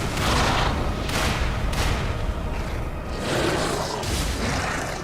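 Repeated cannon blasts in the Lies of P game, heavy booming shots arriving in a steady barrage of dense, loud bursts with brief dips between volleys.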